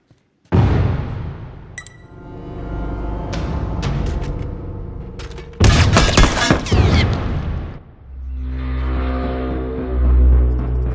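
An armed bomb exploding in The Last of Us Remastered multiplayer, a sudden loud blast followed by sustained crackling and rumbling, a second sharp burst midway, then a low lingering roar.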